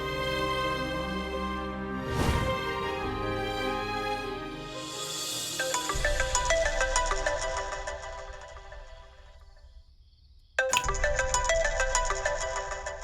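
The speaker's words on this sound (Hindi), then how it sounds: "इतनी रात को किसका फोन है?" A phone ringtone plays loudly late at night as a melodic electronic tune, repeating for several seconds with a brief pause before resuming.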